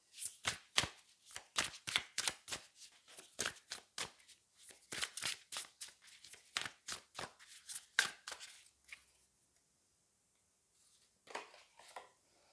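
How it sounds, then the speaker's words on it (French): Tarot cards shuffled and drawn, a rapid run of crisp close riffling snaps for about nine seconds, then a pause and a few softer card flicks. "Je vais prendre peut-être une carte par rapport à ces deux cartes-ci, on va voir."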